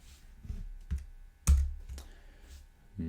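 Irregular bursts of keystrokes on a computer keyboard, close and fairly loud, with a heavier thump near the middle and scattered lighter taps around it, no speech.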